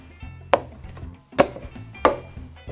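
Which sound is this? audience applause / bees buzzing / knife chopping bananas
knife chopping bananas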